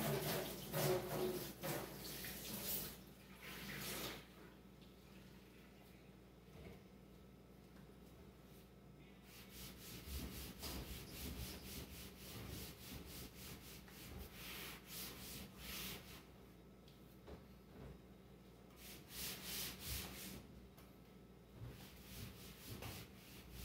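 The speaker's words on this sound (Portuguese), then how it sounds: "Agora só falta passar um paninho nas laterais dele" A small cloth wiping the sides of a kitchen stove, heard as a steady run of soft rubbing and scrubbing strokes at close range, with some louder bursts of friction in between.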